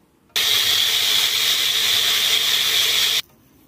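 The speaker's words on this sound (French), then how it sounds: "Je vais mixer tout ça et on va donc faire le mélange." An electric blender grinds cane sugar in a bowl, starting abruptly, running at a loud, steady high-pitched whir for about three seconds, then cutting off sharply into quiet.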